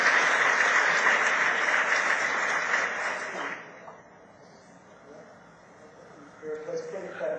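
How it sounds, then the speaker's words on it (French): Audience applause after a session at a French-language event, dense and steady, then fading away about halfway through, leaving quieter room sounds. "On applaudit encore."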